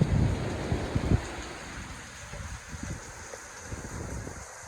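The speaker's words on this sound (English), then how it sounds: "Maybe there's a storm outside." Rain falls steadily outdoors with a soft hiss and scattered low thumps and rumbles, fairly faint, with no voices present.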